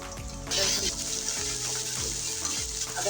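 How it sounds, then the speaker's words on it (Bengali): Ginger garlic paste sizzles and fries with browned onions in a wok, a steady loud crackle with a few scraping stirs, no talking. "আদা রসুন পেস্টটা আমি ভালো করে পেঁয়াজের সাথে ভেজে নেব"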